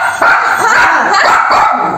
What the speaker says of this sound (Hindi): हां बेटे मुझे भौंक रहा है।